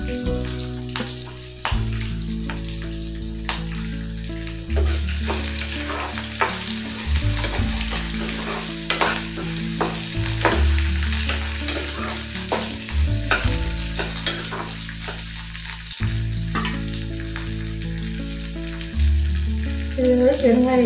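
Pieces of coconut fry in a pan for mint chutney, with a steady loud sizzle and crackle that runs throughout, stirred now and then, and no talk over it.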